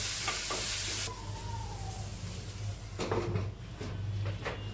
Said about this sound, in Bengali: হলুদ দিয়ে দিচ্ছি এবার একটু নেড়ে ঢেকে সেদ্ধ হতে দেব